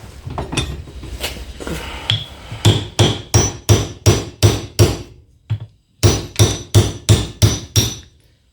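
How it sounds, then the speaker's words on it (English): A U-joint cup is hammered out of a Ford Super Duty driveshaft yoke with a socket, giving loud, close metallic blows in a steady rhythm of around fifteen strikes with a short pause partway through. "You could either take a socket, you know, and hammer it out."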